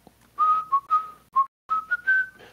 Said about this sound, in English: I have no idea how a whistle comes through the microphone